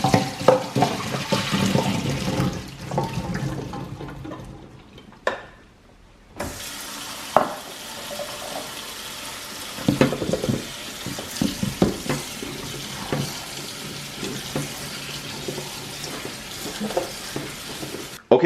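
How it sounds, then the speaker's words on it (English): Running water pours from a kitchen tap over potatoes in a sink, a continuous hiss and splash with a brief pause midway and occasional knocks and clatters as they are rinsed and drained. "Drain and rinse those potatoes."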